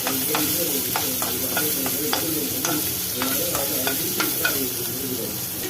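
Chopped raw guava being sautéed in a pan for a guava chutney, with repeated spatula stirring taps and scrapes over a steady sizzle, close and fairly loud, no talk.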